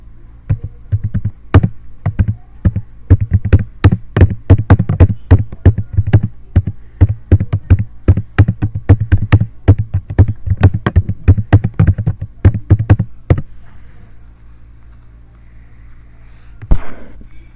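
Fast, steady keystrokes on a computer keyboard as an image-generation prompt is typed, close and crisp, running for about thirteen seconds before stopping into quiet room tone.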